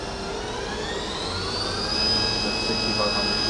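The spindle of a Doosan CNC vertical machining center spins up toward 8000 RPM, a steady whine that rises smoothly in pitch over a constant loud mechanical hum, heard close up without any talking.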